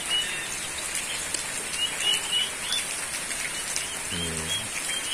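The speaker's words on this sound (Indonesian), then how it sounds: "Suasananya hujan ini." Rain keeps falling outdoors at a house in Indonesia, a soft continuous hiss with scattered drops, faint birds chirping and a brief low voice near the end.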